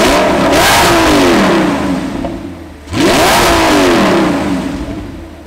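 An Audi R8 engine with custom exhaust revs hard twice, a loud throaty exhaust roar rising and falling in two close bursts.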